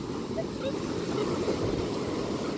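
Ocean waves wash up a beach as the tide comes in, a steady loud roar of surf mixed with wind buffeting the microphone, with no clear voices.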